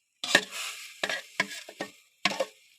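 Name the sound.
stirring semolina and egg halwa with a spoon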